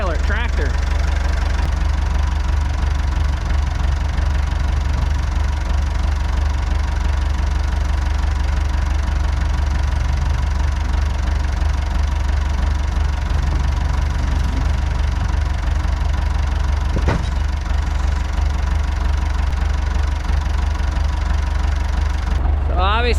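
A tractor engine idles and runs steadily while backing up a few feet in snow, a continuous loud mid-pitched rumble with knocking undertones, close by, with a brief sharp knock near the end.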